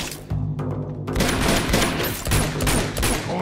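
Uncharted 2 gunfire erupts as a dense run of loud, rapid shots with sharp cracks and booms. It crowds together over a few seconds after a brief low rumble opens the clip.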